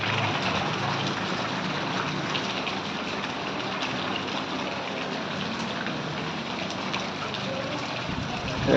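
Steady, loud rushing of floodwater through a rain-submerged neighbourhood of Seujgari, Bogura, sustained and even throughout with no pauses.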